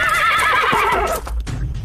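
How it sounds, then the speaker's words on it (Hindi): Panicked carriage horses rearing onto their hind legs whinny loudly and shrilly in a horror audio-drama effect, the neighing sustained for over a second before dropping into low rumbling and a brief hoof clatter. "घोड़े दहशत में हिनहिनाते हुए अपने पिछले पैरों पर खड़े हो गए।"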